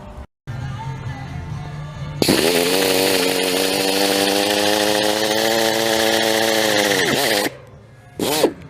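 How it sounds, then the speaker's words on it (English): A power drill whirs steadily for several seconds while installing a tailgate lift assist on a 6 by 12 foot utility trailer, its motor loud and close, then stops and briefly spins up again. "Mark that sucker and drill that one."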